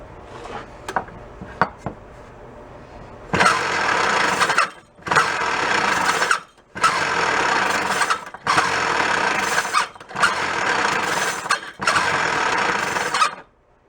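An antique Ohlsson & Rice small engine powering a mini drill and generator set: a few sharp clicks, then loud rattling mechanical running in repeated bursts of about a second and a half, separated by brief gaps.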